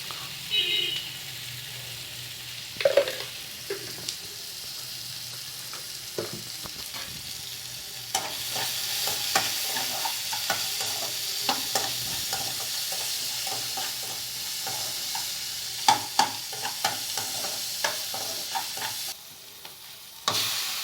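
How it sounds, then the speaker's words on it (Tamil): Vermicelli upma ingredients fry and sizzle in a pan for Tamil Nadu style breakfast, with a steady hiss broken by repeated scraping strokes of a spoon stirring, close and moderately loud. "எல்லாம் போட்டு நல்லா வதக்கிடணும்."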